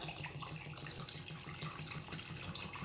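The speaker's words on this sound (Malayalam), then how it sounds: "കുറച്ചും കൂടെ വെള്ളം ഒഴിക്കണം" Water pours into a chicken marinade for Arabic-style grilled chicken, a steady close splashing stream that runs without a break and with no voices.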